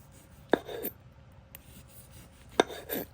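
Two crisp knife cuts through a firm birch mushroom, each a sharp tap followed by a brief slicing scrape, close by in a quiet room.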